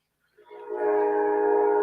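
Train horn sounds as one sustained, loud, harmonic blast that swells in quickly and holds steady to the end.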